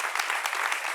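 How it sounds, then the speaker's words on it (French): A studio audience applauds guests on a talk show, a brief burst of dense clapping close by, over which a voice speaks. "On les applaudit très fort."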